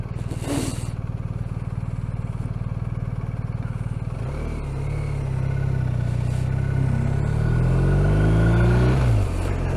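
A BMW R 1250 RT motorcycle with a ShiftCam engine idles with a steady low throb, then pulls away and accelerates under load, its engine note rising through gears as wind rushes past, loud and close.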